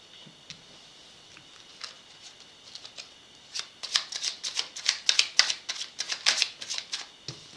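Tarot cards being shuffled and drawn, with a few light isolated card flicks giving way to a rapid, crisp run of riffling close by, no voice over it.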